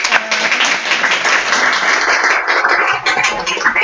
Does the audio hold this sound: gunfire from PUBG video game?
no